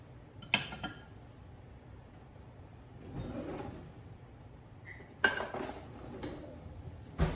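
Warm water, yeast and honey are mixed in a bowl with a few clinks of a utensil against the bowl, a soft scraping stir, and occasional clattering knocks, quiet and without speech.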